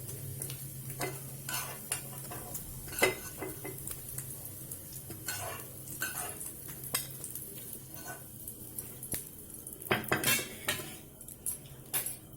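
Fried paneer-stuffed veg eggs are lifted from a hot pan onto a plate, with repeated metal clinks and scrapes of a spoon against pan and plate over a faint steady sizzle.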